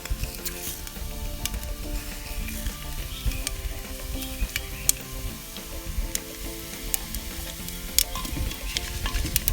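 Whole spices such as cloves and cinnamon fry with fennel seeds in a pot for mud pot chicken biryani, making a dense, steady sizzle with small crackles and stirring taps throughout.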